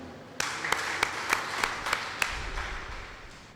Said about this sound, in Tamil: அவரை ஒரு கரகோஷத்துடன் வரக வரக என வரவேற்கிறோம்